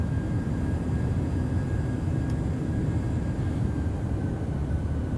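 A PMDG 737-800 airliner in Microsoft Flight Simulator 2020 hums and rumbles in a steady, loud, low cabin drone that continues without a break, with no one talking.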